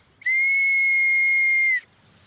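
A single shrill, steady tone from a homemade wooden May whistle, held for about a second and a half, loud and close, with breathy airy overtones.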